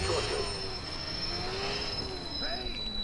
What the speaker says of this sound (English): The L train rides around the track, as you can see here